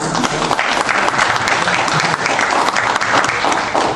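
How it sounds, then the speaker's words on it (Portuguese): Audience applause at a church gathering, dense steady clapping from a crowd filling the whole stretch at a loud, even level. "Vamos aplaudir o nosso amigo aqui."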